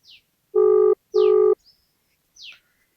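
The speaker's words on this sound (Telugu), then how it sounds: "ఒకసారి ఫోన్ చేద్దాం ఫోన్ లిఫ్ట్ చేస్తాడో లేదో చూద్దాము" A telephone call's ringback tone: two steady, evenly spaced beeps of equal length, with faint chirpy blips around them on a quiet line.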